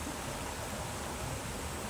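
Water in a river streams steadily past, a dense, even rushing sound that stays close and constant with no voices over it.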